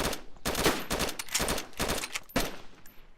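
Rapid bursts of automatic gunfire in the video game DayZ, several loud, sharp volleys in quick succession, close and dominant with no talking.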